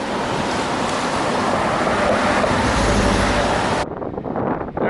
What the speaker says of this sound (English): this is the Baptism River running up here in Finland, Minnesota